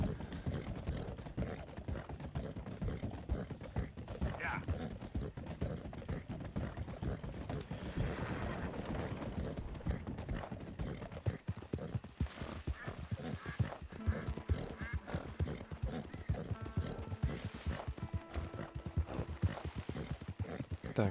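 Steady, rhythmic clip-clop of horse hooves on a road while riding in the video game Red Dead Redemption 2, continuous and fairly close under faint ambient game sound.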